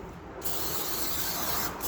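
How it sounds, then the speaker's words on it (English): Cheap penetrating multi-lube aerosol sprayed onto a rusty, seized Briggs and Stratton engine: a loud, close, steady hiss that starts abruptly, runs nearly two seconds and dips briefly near the end. "This is a bit of the old cheap and nasty penetrating multi-lube spray from Bunnings"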